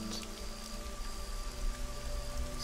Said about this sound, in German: So ein Dauerregen. Ja, hier regnet es wohl immer.